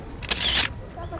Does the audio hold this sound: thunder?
no